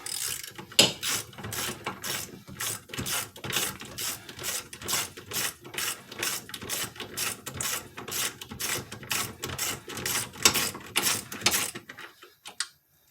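A ratchet wrench turns out a wheel hub assembly bolt on a 2005 Dodge Stratus RT, giving a long run of close, crisp rapid clicks in rhythmic bursts that stop abruptly near the end.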